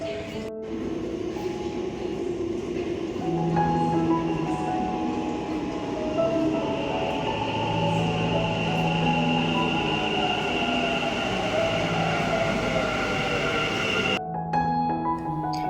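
A Green Line metro train pulls into a station, a loud sustained rumble with squealing wheels and rising and falling tonal whines, ending with door chimes.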